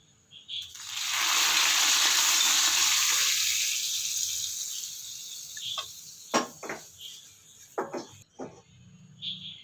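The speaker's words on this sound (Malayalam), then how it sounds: "കടുക്, ഉള്ളി, കറിവേപ്പില, ഒരു കായമുളകും കൂടെ ചേർത്ത് നല്ലൊരു വറവും കൂടെ ഇട്ട് കൊടുക്കുക" Mustard seeds, onion, curry leaves and a dried chilli tempering in hot oil for a lentil, snake gourd and ground coconut curry produce a loud hissing burst that swells and fades, followed by scattered sharp pops and crackles.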